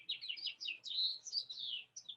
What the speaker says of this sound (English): Joe, I like the birds in the background, Joe.